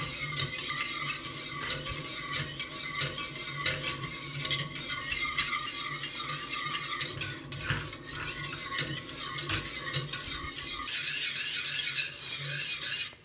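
Steady metallic whisking and scraping of pastry cream in a pot, continuous and close, with faint sizzling beneath as it nears a boil, and no talking.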